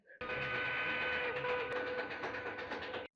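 Train sound from the 1962 Western film The Man Who Shot Liberty Valance, arriving at Shinbone station: a steady, loud rumble of a small train with tonal whistle-like overtones, continuous for about three seconds with no talk.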